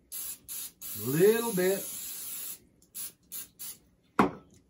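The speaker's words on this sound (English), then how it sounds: "A little non-stick spray. This is canola oil, Aldi. I'm just going to spray the top of them." Canola oil non-stick cooking spray from an aerosol can misted over breaded mushrooms in several short bursts, with one sharper final spritz; a person talks briefly between the sprays.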